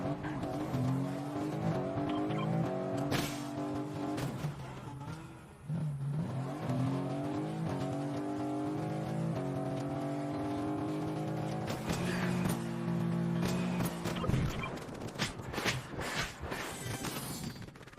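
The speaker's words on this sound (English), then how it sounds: "I ended up getting into this car and just driving around the map trying to find people." Video-game car engine in Fortnite, revving and shifting through rising and falling pitch sweeps, with brief skids and impacts, loud and continuous throughout.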